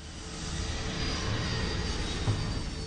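Airplane engine roaring in a steady, dense jet-like rush for a few seconds as the aircraft goes down, loud and unbroken with no voices.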